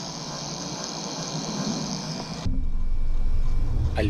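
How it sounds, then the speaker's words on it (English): Noisy GPU cooler fan whirring steadily inside an IBM 300 GL computer, a constant close hiss and hum that shifts to a louder, lower drone partway through. "GPU cooler is super noisy."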